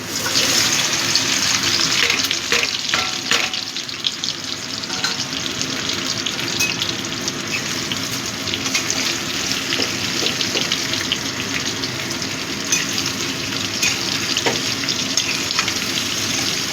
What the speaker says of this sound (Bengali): এবার আমি ভেন্ডিগুলো আগে ভেজে নেব।